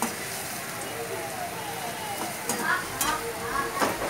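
Potato filling for batata wada sautéing in a pan with green chillies, giving a soft sizzle with scraping stirs and occasional sharper clinks of a spoon against the pan.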